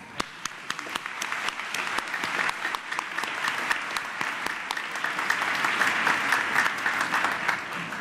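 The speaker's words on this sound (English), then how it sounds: "Join me in a round of applause to thank our faculty and staff." Graduation crowd at a high school ceremony giving sustained applause for faculty and staff, dense steady clapping from a large audience that swells slightly toward the end.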